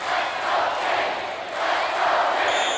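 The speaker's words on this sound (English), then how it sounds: "You hear the crowd in the field house." Crowd roaring and cheering inside a field house during a 1981 collegiate wrestling match between Iowa and Iowa State at 158 pounds, a dense, loud, sustained roar that swells and surges throughout.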